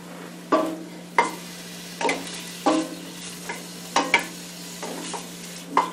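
Bacon sizzles in olive oil and butter in a pan, a steady frying hiss broken by repeated scraping stirs at irregular intervals, with a constant low electrical hum underneath.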